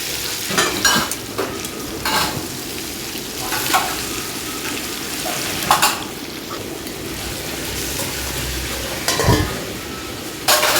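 Vegetables for shukto fry and get stirred in a pan, a steady sizzle broken by repeated spatula scrapes and clinks against the metal at irregular intervals.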